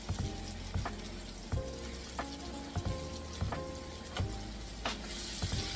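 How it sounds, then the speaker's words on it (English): Crushed chili frying in a pan with a ravioli lasagna mix of pasta and sauce, giving a steady close sizzle broken by a few louder clinks and scrapes from stirring at regular intervals, with no talking. "I want this to fry up together"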